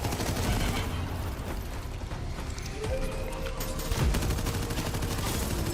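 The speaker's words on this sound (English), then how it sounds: "Does my own grenade hurt me? Do I need to avoid my own grenade?" Grenade explosions in the video game Abyssus, a steady barrage of loud bursts and rapid gunfire-like blasts filling the whole stretch with no talk.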